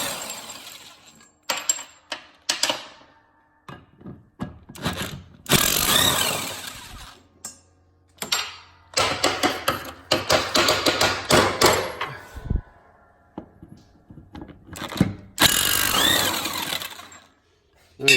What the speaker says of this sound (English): got the trusty impact out